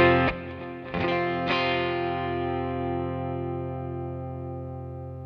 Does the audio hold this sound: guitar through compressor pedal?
yes